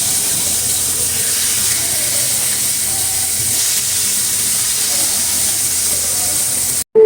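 Fish slid into hot oil in a pan, with a loud, steady, close hiss of frying that holds evenly throughout and cuts off abruptly at the very end.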